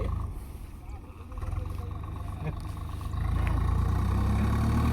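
A Swaraj 742 tractor engine rumbling as it approaches through rough ground while stuck, a low steady drone that grows louder toward the end, with people talking over it.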